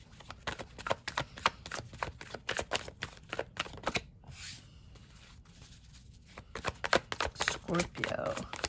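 Tarot cards being shuffled, with a run of rapid crisp riffles and slaps, a short pause near the middle, then more shuffling, close and fairly quiet.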